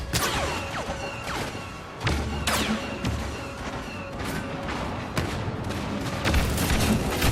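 Rapid bursts of turret gunfire in a Star Wars video game crackle repeatedly with sharp thuds and booms, a steady barrage of weapon fire at moderate loudness.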